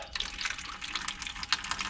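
Water runs steadily from the drain valve of a household water heater that is partly plugged, a continuous splashing flow with small surges, close and fairly loud, no talking.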